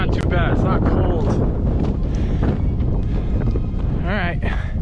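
Strong wind on a mountain ridge near the peak of Mount Madison in the Presidential Range, loud continuous buffeting gusts across the microphone, with voices partly audible.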